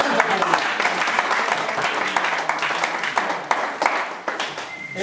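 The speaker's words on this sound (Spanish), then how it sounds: "A ver, un aplauso para Tunacancha." Crowd applause rings out at a community masters football championship in Yanahuanca to honor the winning Tunacancha team, with dense sustained clapping and some voices mixed in throughout.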